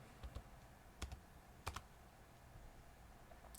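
Scattered keystrokes on a computer keyboard come as a few quiet clicks in small clusters with gaps between them, heard faintly at close range over a low room hush.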